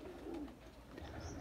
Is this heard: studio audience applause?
no